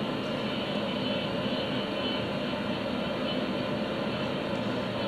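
A dental lab motor spins a burr trimming a plaster model of the dentition, a steady loud whirring drone with gritty grinding throughout, no voices.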